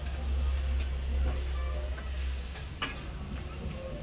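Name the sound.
fish frying and being stirred into spice paste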